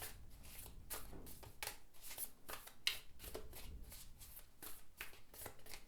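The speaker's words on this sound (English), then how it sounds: "I'm going to show you how this deck shuffles" A deck of gilded tarot cards is shuffled overhand in quick, rhythmic riffling bursts, close and soft, with papery flicks repeating steadily.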